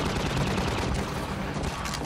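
Gunfire in Half-Life 2, a dense continuous barrage of shots and explosions, loud and busy throughout.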